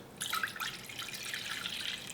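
Water pours into a saucepan as a bright, steady splashing trickle, moderately close and uninterrupted, with a few louder drips at the start.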